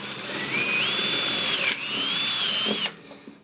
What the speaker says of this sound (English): So I'll take a 5/16 drill bit here